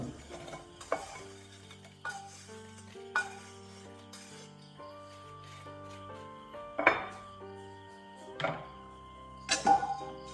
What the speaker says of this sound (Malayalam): ഇനി നമുക്കിത് വേറൊരു ഡിഷിലോട്ട് മാറ്റി വയ്ക്കാം